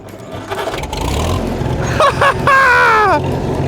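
A lawn mower or tractor engine is started, cranking briefly before catching into a loud, close, throaty rumble with a rising rev.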